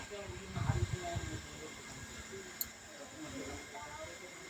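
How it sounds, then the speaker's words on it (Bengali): Pointed gourd pieces frying in hot oil, a steady sizzling hiss running the whole time, louder and busier at the start, then settling. "পটলগুলো একটু ভালো করে আমি ভেজে নেব"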